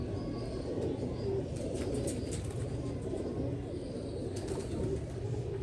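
Pigeons coo softly in low, rolling calls, several birds overlapping close by, with occasional rustling in the background.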